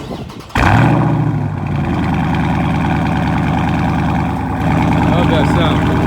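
A 2020 Dodge Charger Scat Pack engine cranks on a cold start and fires up at about half a second, then settles into a loud, steady, rumbling idle close by.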